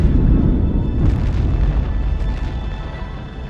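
Asteroid impact explosion sound effect: a loud deep rumbling boom that rolls on and slowly fades.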